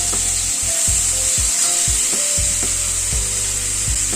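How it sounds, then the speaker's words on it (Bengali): Garlic sizzles in hot oil at the start of a thin chicken curry with papaya, carrot and black pepper, giving a steady bright hiss broken by soft knocks of a utensil against the pan. "রসুনটা তেলের উপরে আগে দিলাম"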